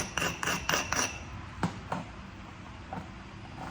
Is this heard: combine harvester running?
no